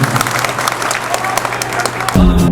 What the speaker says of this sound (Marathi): डॉक्टरला देखील जोरदार टाळ्या बांधा